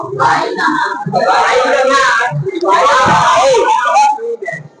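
Students in a Hindi-language maths class on lines and angles shout together, a loud, continuous crowd of raised voices filling nearly five seconds with only brief dips.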